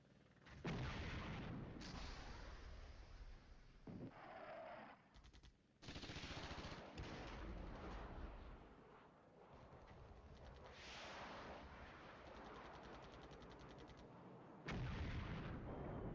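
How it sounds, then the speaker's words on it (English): Artillery barrages pound away in the war video game Flashpoint Campaigns: Red Storm, with dense, loud booms and rattling bursts continuing for about sixteen seconds, briefly dropping out a few times. "Artillery in the north."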